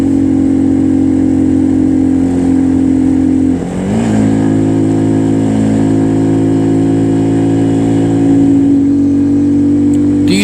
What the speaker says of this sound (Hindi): तीसरे में ही चल रहा है मोटरसाइकिल, शायद आगे दूसरा करना पड़े इस मोड़ के बाद।